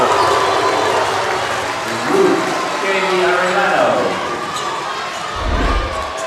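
Home crowd at a Waialua vs Kailua boys volleyball championship roars with steady cheering and applause, rising in swells with a loud thump near the end, a busy gym din throughout.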